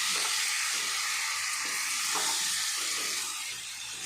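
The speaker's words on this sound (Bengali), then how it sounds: "একটু ভাজা ভাজা হোক।" Food frying in a pan over a turned-up gas flame, giving a continuous loud sizzle and hiss with slight fluctuations and a small dip in level near the end.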